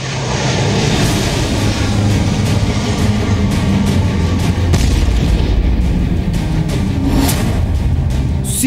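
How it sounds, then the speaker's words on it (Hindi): Missile attack on Syria heard as a dense, continuous roar of heavy rumbling and booming that stays loud and steady throughout, with no voices. "अब आपको दिखाते हैं प्रेसिडेंट ट्रंप का पहला मिसाइल अटैक।"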